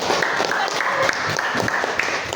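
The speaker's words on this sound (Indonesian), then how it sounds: "Ya, tepuk tangan untuk kita semuanya." A classroom of students applauds together in a dense, continuous patter of claps, with voices mixed in throughout.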